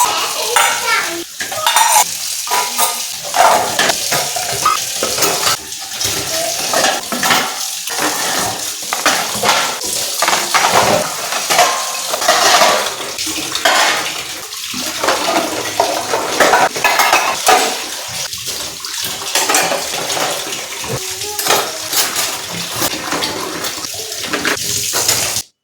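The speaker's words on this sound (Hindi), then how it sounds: "फिर अपने बर्तन धुलेंगे।" Pots, cutlery and dishes being washed in a home kitchen sink, with steady running water, clinks and scrapes continuing throughout, no talking.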